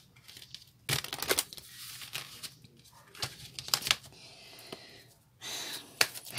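Cards being shuffled by hand for a reading, giving crisp riffling and flicking bursts in several bursts with brief pauses between them, close and moderately loud, with no one talking.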